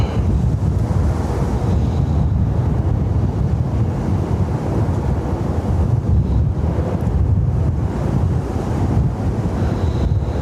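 Strong wind at Dublin Airport buffets the microphone in a steady, loud, low roar with gusting surges and no voices.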